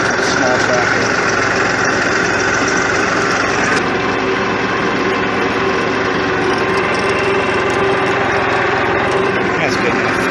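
Massey Ferguson 1433 4x4 compact tractor engine working hard under heavy skidding load, a steady close drone with a constant pitch running the whole time, voices talking over it.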